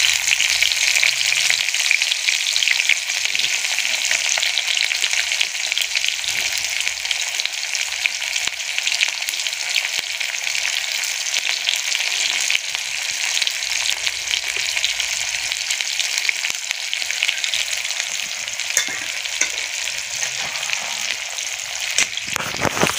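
Onion hits a hot pan of oil for a village-style buff dry meat and sponge gourd curry, giving a steady, loud, continuous sizzle with no talk.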